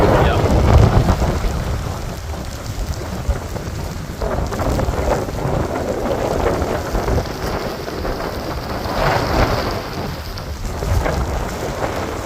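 Strong wind gusts during Tropical Storm Ophelia on the eastern North Carolina coast, a loud broadband roar that surges and eases throughout, mixed with heavy rain noise close to the microphone.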